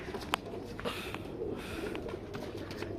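Pigeons in a breeding shed make soft, low cooing and a few brief calls over a busy, rustling background, fairly faint and continuous across a few seconds.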